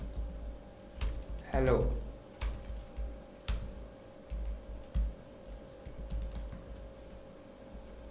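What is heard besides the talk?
typing on a computer keyboard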